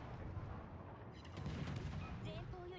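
Ship guns firing in a naval battle video game, heard as a series of rumbling booms and blasts, moderately loud and steady, with game sound effects in the mix.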